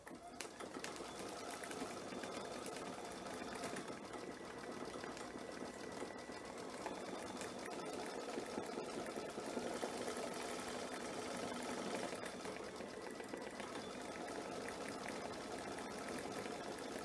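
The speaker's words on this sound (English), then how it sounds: "Make sure that nothing gets caught while it is stitching." An embroidery machine stitches a design onto a towel, a quiet, continuous rapid whirring and ticking hum that holds steady throughout.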